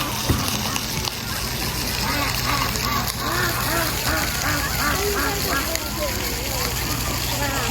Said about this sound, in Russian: а здесь утки и лебеди